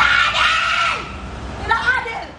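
A woman screams hysterically in a courtroom after a verdict in a case over a rental car and a former soldier, two loud, strained bursts of anguished shouting close by, the second rising sharply after a brief lull.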